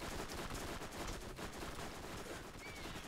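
Gunfire in the video game Borderlands, a quick rattle of repeated shots at a fairly even pace, moderately loud and continuous.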